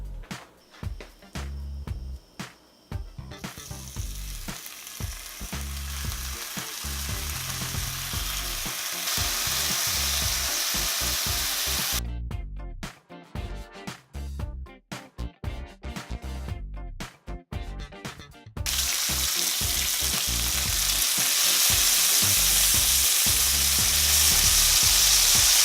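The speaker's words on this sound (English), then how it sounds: "What we're gonna do right now is we're gonna cook that bacon." Smoked bacon strips sizzle and crackle loudly in a hot pan, a dense steady fry with bursts of spatter, shifting and stirring noises, and a brief quieter gap before the sizzle swells again.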